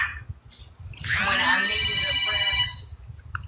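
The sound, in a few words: phone ringing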